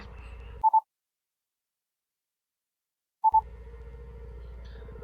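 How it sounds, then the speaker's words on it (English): A telephone call to London rings unanswered, with two short double-pulse ring tones separated by a long stretch of silence, heard through the handset over faint background hum. "Nothing. It just kept ringing."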